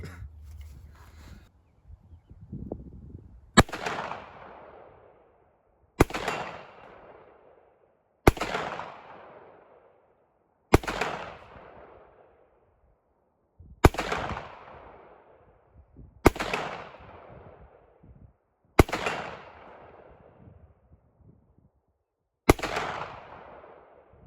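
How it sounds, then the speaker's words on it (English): Desert Eagle pistol shots fired at a propane tank outdoors, eight sharp, loud cracks spaced a few seconds apart, each trailing off in a decaying echo, with faint background noise in between and no clear talking. "Would you like to shoot the deagles? Yeah, I'll shoot it."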